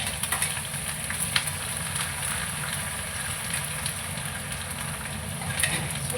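Green chillies and curry leaves frying in hot oil in a pan, a steady, fairly quiet sizzle with a low crackling bed that carries on unbroken, with no voices.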